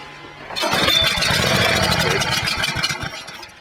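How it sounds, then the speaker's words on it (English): A small Honda engine running on carburetor cleaner vapors coughs to life and settles into a steady, rough idle close by, running on for a few seconds before fading out. "idling a motor off of flammable vapors, everybody's doing it"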